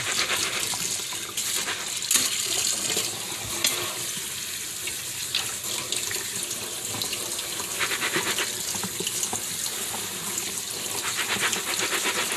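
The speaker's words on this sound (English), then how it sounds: "We have to rinse them in cold water really well." Mung beans are rinsed under cold running water, giving a continuous splashing hiss with small clatters throughout, close and fairly loud, with no talk.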